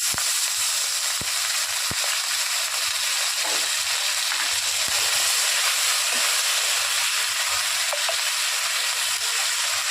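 Halved green chilli and ginger fry in a pan with a loud, continuous close sizzle and hiss, broken by occasional small pops and clicks, with no voices.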